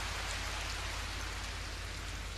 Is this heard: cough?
no